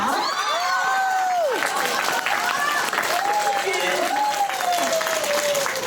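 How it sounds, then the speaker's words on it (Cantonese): Audience clapping at a memorial sharing gathering for Kiu Hung, a steady, dense patter of many hands that fills the room, with voices talking and calling out over the applause throughout. "係咪應該拍手？"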